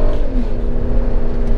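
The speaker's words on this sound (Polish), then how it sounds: "Kręci się pod samo czerwone." A Porsche Cayenne 3.2 engine revs hard to the redline, a loud, close, sustained engine roar with a steady tone that climbs slightly.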